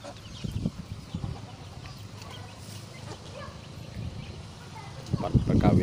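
Free-range village chickens in a mating pen for crossing native hens with Bangkok roosters, intermittent nearby clucks and low fowl sounds, louder bursts near the end, over faint background noise.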